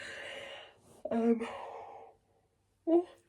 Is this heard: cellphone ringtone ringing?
no